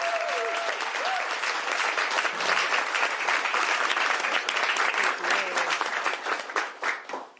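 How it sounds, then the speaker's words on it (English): Sustained, loud audience applause fills a press conference held by the Washington state governor, dense clapping throughout before tapering off at the end, with faint voices and cheers mixed in. "Please give her a big round of applause."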